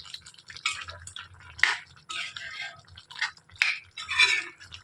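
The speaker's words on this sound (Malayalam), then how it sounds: "ഇനി ഒന്ന് ഇളക്കി കൊടുക്കാം നന്നായിട്ട്" Chicken parts being stirred as they roast in a pan, giving soft intermittent scrapes and clinks of a utensil against the pan over a low background hum.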